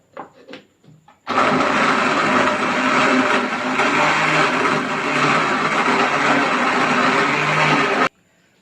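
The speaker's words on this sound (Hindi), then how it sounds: "ये सब कुछ डाल के आप एक ही मरतबा जो है इनको एक साथ ग्राइंड कर लें।" A kitchen blender grinds garlic, spices and water for a chicken tawa tikka boti marinade, starting after a few brief knocks and running as a loud, steady whirring roar for about seven seconds before cutting off abruptly.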